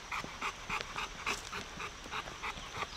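A dog panting steadily during obedience training, a quick rhythmic run of breathy puffs close to the microphone that keeps going through all three seconds over a low, noisy background.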